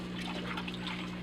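Water sloshes and trickles as a scoop is dipped into an outdoor fish-fry tub, a faint, brief splash with a low steady hum underneath.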